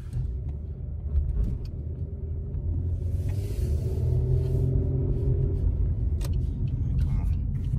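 Inside a Pontiac Grand Prix with a 3800 engine, a steady low engine and road rumble drones throughout the drive, fairly loud and constant, with a few faint knocks and clicks over the top.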